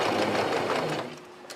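A sewing machine runs a regular stitch along the old hem of a pair of jeans, using the hem edge as a guide. The motor buzzes steadily at close range for about a second, then eases off, with no voices.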